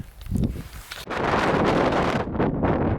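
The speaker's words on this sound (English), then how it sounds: "Obviously very windy at the moment." Strong wind on the Isle of Skye, Scotland, buffets the microphone with a loud, continuous roar that gusts and rumbles, after a brief quieter rustling start.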